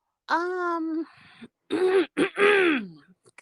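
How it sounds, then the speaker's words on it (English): Someone clears their throat up close in a few rough, voiced bursts separated by short pauses. "Clear my throat."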